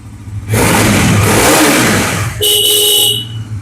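A Bajaj Pulsar NS400 motorcycle engine, late-2024 model, is revved hard in one loud sustained burst, then drops back toward a quieter idle with a tonal whine.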